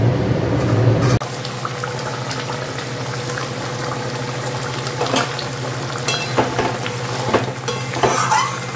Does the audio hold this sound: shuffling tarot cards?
no